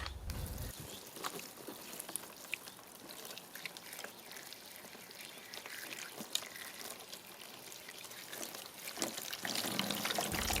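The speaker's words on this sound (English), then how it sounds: "When you add water to a coconut fiber brick, almost instantly it starts to absorb it." Water is poured onto a dry coconut fibre (coir) brick, a faint, close trickle with scattered crackles and small splashes that grows slightly louder toward the end.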